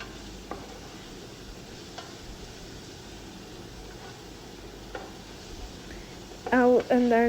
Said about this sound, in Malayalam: ടൊമാറ്റോ അതിലോട്ടൊന്ന് മിക്സ് ആവട്ടെ